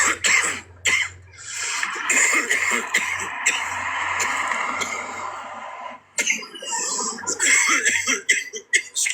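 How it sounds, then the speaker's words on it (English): One person coughs and clears their throat repeatedly, with harsh close bursts broken by short pauses and a quieter stretch of rough throat noise in between, no speech. "Excuse me for my coughing, guys."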